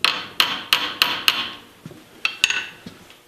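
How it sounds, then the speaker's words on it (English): Sharp metal hammer strikes drive a tenon into a dovetail cut in a .58 caliber rifle barrel, five quick ringing blows in a row, then a pause and a few more scattered taps, close and clear with no talking. "have to be hammered in, just like that."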